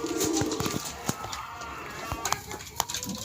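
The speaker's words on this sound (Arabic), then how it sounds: "النهاردة نخش على الحمام بتاعي ونشوفه ايه النهاردة" Homing pigeons coo softly inside their loft, low throaty calls mixed with scattered wing flutters and small knocks, fairly quiet with a faint murmur of other birds around.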